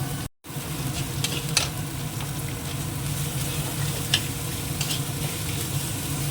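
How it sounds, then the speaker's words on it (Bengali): Finely chopped onion fries with salt in a pan, a loud, steady sizzle with occasional scraping stirs and no voices. "একটুখানি নুন দিয়ে দেবো তাড়াতাড়ি চলে নরম হয়ে যাবে পেঁয়াজটা চলে যাবে একটু ভেজে নিই"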